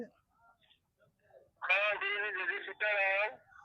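A phone ringtone of a horse whinny, a loud neighing call in two bursts after a quiet stretch with brief faint voices.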